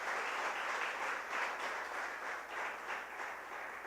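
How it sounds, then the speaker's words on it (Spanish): A church congregation breaks into loud, sustained applause for Jesus, a dense steady wash of clapping from a large crowd with no talking over it. "¿Cuántos le dan un aplauso fuerte al Cristo de la gloria, a Jesús, el Hijo de Dios?"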